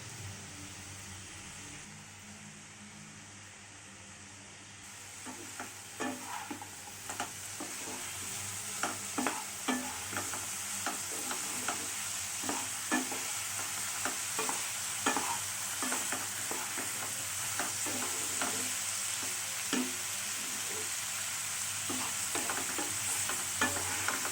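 Potato and bitter gourd stir-fry in a pan: a quiet start gives way to a steady sizzle with repeated spatula scrapes and stirring knocks.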